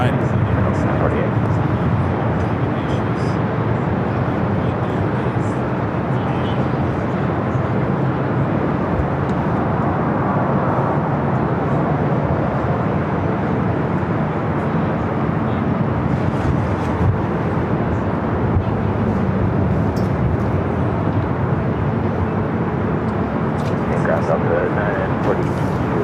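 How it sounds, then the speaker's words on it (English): United Boeing 787-9 Dreamliner taking off from the south runway at LAX, bound for London Heathrow: a steady, broad jet roar that holds loud throughout, with a voice talking over it. "United flight taking off on the south side, heading to London Heathrow, flight 923 and that 787-9 Dreamliner."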